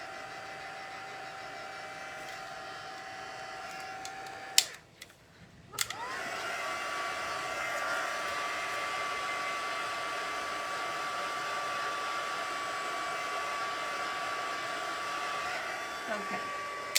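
A heat tool drying stamped ink on a handmade summer card gives a steady, loud blowing whoosh that cuts out briefly with a click, then switches back on and runs continuously to the end.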